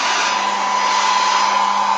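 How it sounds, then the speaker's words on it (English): A hair dryer blows with a steady, loud whooshing hum and a faint whine, running continuously and alone. "No, hair dryer."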